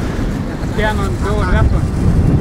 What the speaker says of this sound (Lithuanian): Neblogas vėjukas drono nelabai pakelsiu